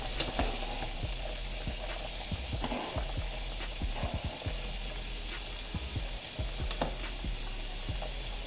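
Beef sausage fries and browns in a pan, a soft continuous sizzle with occasional scraping stirs and light clicks, fairly quiet and close, with no speech.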